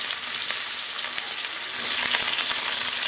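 Chopped onions hit hot oil in a home kitchen pan and fry with a dense, loud, continuous sizzle, with light stirring clatter mixed in and no talking.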